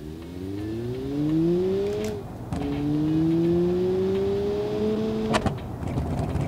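A Sunshine GTI car in the Automation game accelerates through rising engine tones that climb steadily, drop at a gear change, then rise again, moderately loud with short clicks between shifts.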